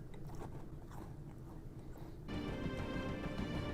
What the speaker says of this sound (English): That's got the crunch that I personally look for.